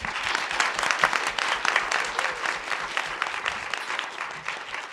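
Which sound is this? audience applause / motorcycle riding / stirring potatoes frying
audience applause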